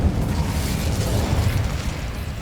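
A fire spell cast in Hogwarts Legacy, heard as a loud, dense roaring burst of flame that fills the whole moment without letup, rumbling low with a hissing top, and nobody speaks.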